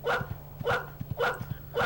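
A dog character in a Sega Dreamcast video game barks over and over in a steady loop, four evenly spaced sharp barks over a faint low hum.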